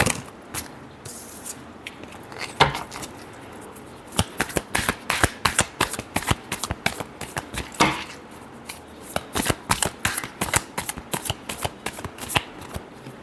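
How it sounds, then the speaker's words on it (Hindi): Tarot cards shuffled by hand: rapid, crisp papery riffles and slaps in repeated bursts, close and fairly loud, with no talking. "Last shuffle."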